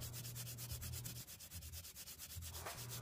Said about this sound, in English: With an even less aggressive approach, some 80 grit sandpaper, I'm actually still blowing out chips.